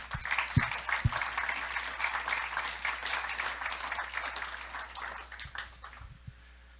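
A church congregation claps in praise during a Christian sermon, a steady, moderately distant wash of hands lasting several seconds, with a few low thumps, then tapering off near the end.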